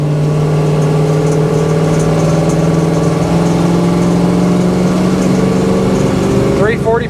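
A 1972 Dodge Challenger with a 340 Mopar V8 pulls under steady acceleration from inside the car, a continuous loud drone that climbs gradually in pitch and then shifts as the gears change near the end.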